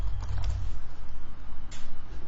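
Quick bursts of keystrokes on a computer keyboard while coding in Java, close and clicky with brief pauses between runs of taps.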